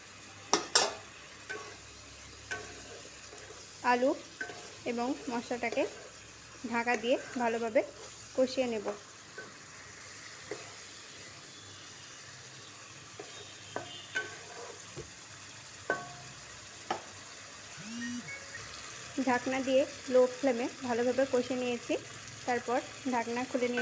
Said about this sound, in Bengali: একটু নাড়াচাড়া করে নিয়ে এতে দিয়ে দেবো ভেজে রাখা আলুগুলোকে